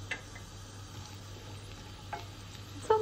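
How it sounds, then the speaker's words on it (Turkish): Sliced onion rings cooking in hot oil in a frying pan, giving a quiet, steady sizzle with a few soft stirring clicks and a brief louder scrape at the end, no voices. "Halka halka doğramış olduğum soğanları tavama alıyorum"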